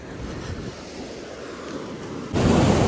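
Sea waves break at the shore in a continuous rushing wash mixed with wind buffeting, swelling louder toward the end.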